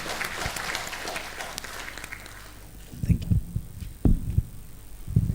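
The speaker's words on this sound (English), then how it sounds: "So big round of applause to Rupesh and NCCR." Audience applause at a mangrove conservation conference session fills the first half as a dense, steady patter of many hands, then thins out into scattered low thumps and murmurs.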